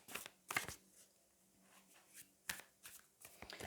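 Tarot cards being shuffled in a quiet room, a few short, soft riffling bursts separated by pauses.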